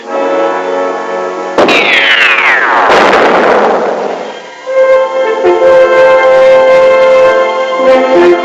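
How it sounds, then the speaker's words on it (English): A loud cartoon explosion from a 1966 animated episode: a sharp bang with a descending whistling tone, a roaring blast that fades, then a sustained ringing musical tone afterward. "Explode it quickly. Observe, it will work instantly."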